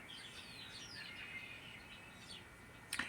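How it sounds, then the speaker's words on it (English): Faint bird chirps and warbles drift in from a distance over a steady background hiss, with a brief sharper click near the end. "there was a bird singing that I didn't see, but I could hear"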